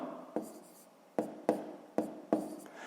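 Pen or chalk writing out fractions by hand during a sixth-grade maths exercise: several short scraping strokes in bursts, close and fairly quiet, with no talking.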